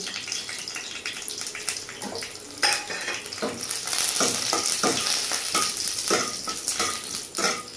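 Whole dried red chilies, a bay leaf and cumin seeds crackle and sizzle in hot oil in a kadai, a tempering for khichuri; a steady, close frying hiss with sharp spitting pops that grows louder partway through.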